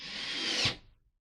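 A power drill bores a hole through timber just below a floor joist, a steady high whine that stops abruptly near the end and rattles down into silence.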